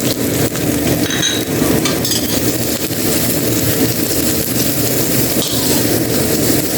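Onion and garlic frying in sunflower oil, a steady dense sizzle with crackle running loud and continuous throughout, with no voices.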